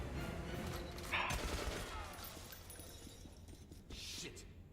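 Gunfire in the video game Metro Last Light, a burst of loud shots with sharp cracks amid close combat noise, followed by a steady rumbling game soundscape.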